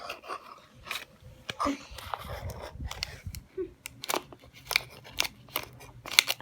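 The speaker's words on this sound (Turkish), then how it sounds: "Ben ilk başta Popsi Surprise sürpriz kutusundan bir tanesini açıyorum." A Popsi Surprise blind box package being opened, with crinkling, tearing and snipping plastic sounds in irregular bursts, close up, with brief bits of voice between them.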